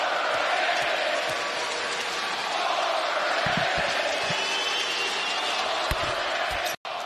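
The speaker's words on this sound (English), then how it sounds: "And you hear the derisive cheer from the fans here at Salt Lake City for Paul George." Basketball arena crowd in Salt Lake City, Utah, letting out a sustained, loud derisive cheer and roar that fills the whole stretch, with scattered thumps underneath before a brief cut near the end.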